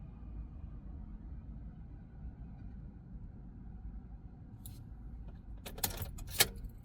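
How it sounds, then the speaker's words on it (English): Keys for a 2004-2009 Nissan Titan jangle briefly at the ignition after a quiet stretch of low rumble, with a few bright metallic rattles near the end and a sharp clink, close by. "Now turn the ignition back to on position with your working key to program it again."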